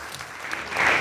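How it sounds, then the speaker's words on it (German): Hesse Green party supporters on state election night applauding steadily, a moderate crowd clapping that swells slightly toward the end with no voices. "Tapfer klatschen sie die hessischen Grünen"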